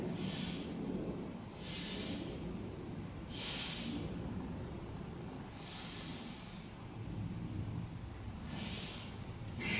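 Slow, steady yoga breathing during a beginner session, several long soft breaths with audible airflow, evenly spaced and close, with no talk.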